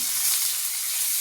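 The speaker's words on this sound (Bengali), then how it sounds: "মাছগুলো তো খুব সুন্দর ভাজা হচ্ছে" Pabda fish fry in oil with a short, steady, bright sizzling hiss, close and fairly loud, with no voices.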